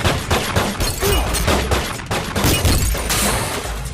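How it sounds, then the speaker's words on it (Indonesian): Dense, chaotic burst of gunfire shattering a car, mixed with shattering glass and crashing impacts, loud and continuous throughout with a bright smash near the end. "melepaskan tembakan yang menghancurkan mobil milik Mark"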